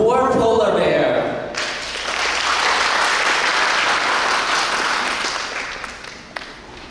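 A school audience at a bilingual class presentation in Tainan breaks into sustained, dense applause that swells after a brief voice at the start and holds evenly for several seconds before easing off.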